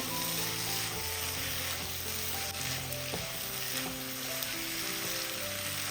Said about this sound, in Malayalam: ഉള്ള സ്പൂണിൽ കൂടി മുട്ട ഒഴിച്ച് ഇതുപോലെ ഒന്ന് ഫ്രൈ ചെയ്ത് നമ്മളിത് തയ്യാറാക്കുകയാണെന്നുണ്ടെങ്കിൽ